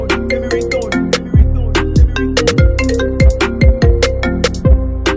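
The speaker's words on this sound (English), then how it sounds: "Tell me ringtone." An iPhone-style ringtone melody runs through an Afrobeat-flavoured song, its bright repeating tones ringing over a heavy, punchy bassline and steady beat at full mix loudness.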